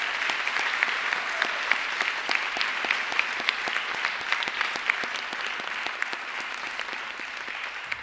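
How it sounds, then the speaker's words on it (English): Loud, sustained audience applause at a livestreamed Dragon Challenge competition, dense overlapping clapping from a sizable crowd holding a steady level for the whole stretch. "Can we just give everyone a round of applause here?"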